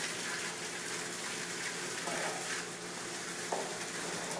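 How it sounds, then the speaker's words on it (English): Steady wash of water and wet grain pouring through a grist hydrator in a brewhouse, a continuous hiss and rush with no pauses, heard close and fairly loud. "through the grist hydrator, we're going to pull in the grain and try and adjust it so that each kernel of grain gets wet"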